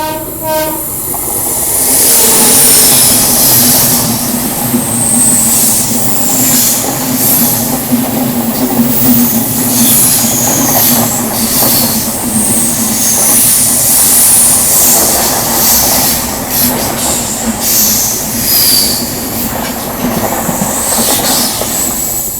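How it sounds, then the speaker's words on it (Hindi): Venad Express passing alongside on the adjacent track in South India, a loud, steady rush of wheels and carriages with rhythmic clatter and brief squeals, continuing close by throughout. "बगल से ये क्रॉस हुई वेनाड एक्सप्रेस।"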